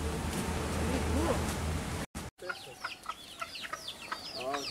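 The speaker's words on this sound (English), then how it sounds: "I see chickens." Tiny chickens cluck and chirp in short bursts after a brief dropout, fairly close, over faint outdoor background with some quiet talking early on, on a chocolate and coffee plantation in Bali.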